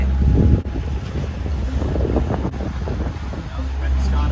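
A sailboat motoring through choppy water off Spain near Alicante, with heavy wind rumble buffeting the microphone over a low engine drone and sloshing waves, loud and continuous.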